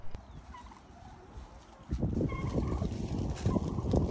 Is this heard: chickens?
yes